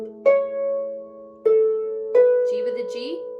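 Harp plucking a phrase slowly, four distinct struck notes with long ringing sustain, the last merging into a brief run of lower notes, close and clear with no talk.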